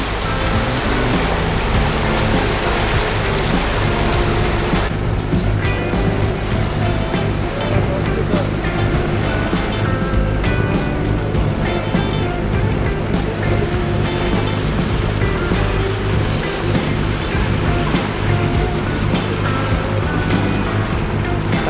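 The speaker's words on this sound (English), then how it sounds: "Really nice day, nice pleasant motor sail." Lagoon 420 catamaran motor sailing on calm Chesapeake Bay water, with a steady engine drone and constant wind and water rush across the whole stretch, loud and unbroken, with no clear talk.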